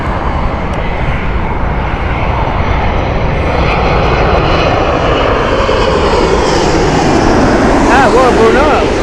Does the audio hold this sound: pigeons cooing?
no